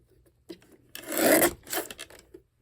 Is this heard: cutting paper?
yes